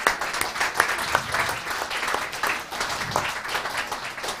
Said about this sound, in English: I would ask you all to give a warm applause again for the startups who did not win